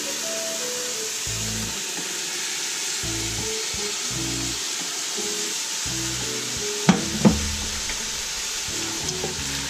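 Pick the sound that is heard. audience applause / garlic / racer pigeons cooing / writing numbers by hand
garlic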